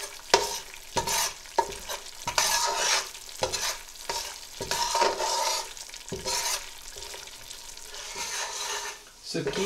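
A spoon repeatedly scrapes semolina (suji) roasting dry in a pan for halwa, making rhythmic rasping strokes about every half second over a soft background sizzle.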